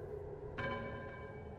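A bell rings once from a cave opening, its single clear strike blooming into a ringing, shimmering tone that hangs over a low background rumble.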